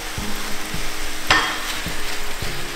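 Mince fries in a hot pan with a continuous close sizzle, broken by a few soft knocks of a utensil stirring and one sharper scrape partway through; no voices.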